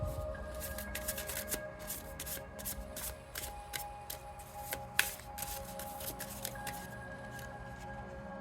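Oracle cards being shuffled by hand, soft papery flicks and rubs ticking along steadily at close range with faint background hum, no talk over them.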